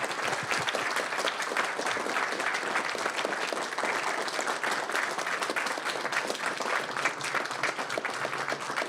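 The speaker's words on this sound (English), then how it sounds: "They need a really good, loud applause." Steady, dense applause fills a county board of supervisors meeting, a sustained round of clapping from the room honoring students who competed in a sustainable decathlon, holding even and fairly loud throughout.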